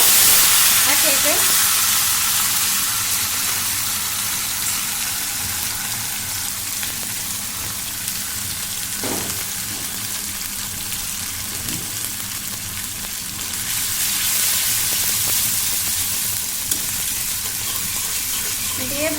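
Fish curry spice paste with ginger paste frying and being sautéed in a pan for pomfret curry, a steady loud sizzle with stirring scrapes and occasional utensil knocks.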